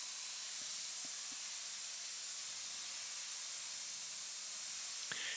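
Airbrush spraying purple paint onto a car's fenders and bonnet, a continuous soft airy hiss that holds steady throughout, with a few faint knocks and a brief bump near the end.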